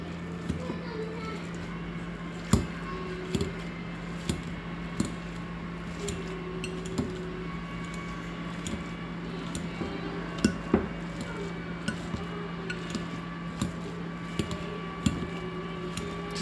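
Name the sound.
mashing cooked sweet potato with a potato masher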